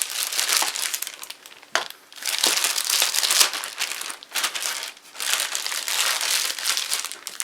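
A plastic piping bag filled with blueberry donut batter crinkles loudly and continuously as a spatula is wiped clean against it, in close, uneven bursts with short pauses.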